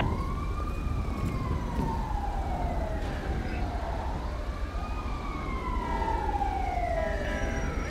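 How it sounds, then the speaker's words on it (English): An ambulance siren wails in slow rising and falling sweeps in Grand Theft Auto 5, loud and continuous over a heavy low engine and road rumble, with a second siren overlapping later. "We've got an ambulance requested in Del Perro."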